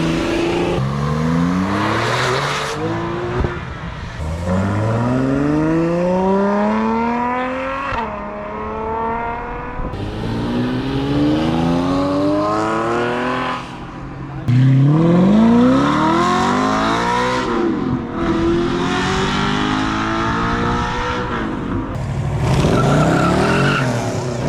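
Launch of a manual Miami blue 997 Porsche GT3 at a cars and coffee meet: the engine revs hard and the tires skid and squeal in loud sweeping pitch rises, repeated through the run with gear changes, near and dominant.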